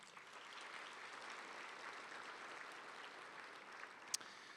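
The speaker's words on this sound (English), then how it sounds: "I think this deserves a big round of applause." Steady applause from an audience at a county education office's annual state-of-education event, even and sustained throughout, with one sharp clap standing out near the end.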